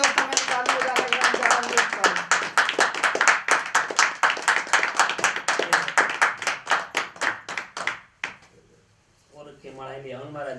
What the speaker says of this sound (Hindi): जोरदार तालियां दोस्तों, मैं ताली बजा रहा हूं।